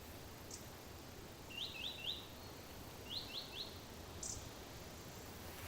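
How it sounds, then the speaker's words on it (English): Two short bursts of high, quick bird chirps, each a rapid run of three notes, over steady outdoor hiss, with a couple of faint higher peeps. "Bird, just a bird."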